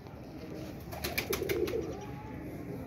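A large pigeon coos in a low, throaty run of soft repeated notes, close and moderately loud, with faint background noise around it.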